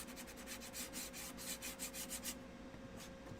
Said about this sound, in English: Okay, so I'm gonna take my sandpaper.